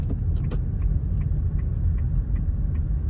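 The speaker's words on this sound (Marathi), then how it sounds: "आपली कार ट्रॅफिक जाम झाली होती" Inside a car stuck in a traffic jam, a steady low engine and road rumble drones throughout, with a few faint high clinks near the start and no talking.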